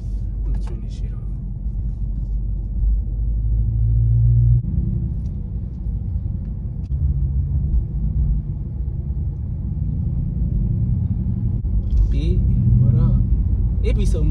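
A steady low engine rumble fills the clip from inside a car driving in heavy traffic, with occasional faint clicks and no clear voices.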